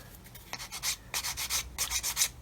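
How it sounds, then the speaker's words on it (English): A flat sanding stick rubs back and forth over a glued joint on a 1/32 scale plastic model aircraft kit, giving close, dry scratchy strokes in a steady rhythm of about a dozen passes, with no voices. "with a flat sanding stick, I'm just going to rub over that"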